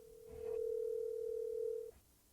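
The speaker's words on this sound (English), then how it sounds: "See if she picks up the phone." An outgoing phone call rings through as a single long, steady electronic ringback tone lasting about a second and a half, fairly quiet, then cutting off.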